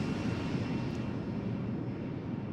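Aircraft engines in a video game, on a plane with a couple of engines in the tail, give a steady, loud, broadband droning roar that stays constant throughout, with no speech.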